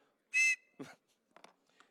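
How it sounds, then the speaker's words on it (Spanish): A single short, piercing high-pitched blast from a 2600 hertz whistle sounds once, followed by a few soft clicks and rustles. "Luego tenéis el silbato este de los 2600 hercios"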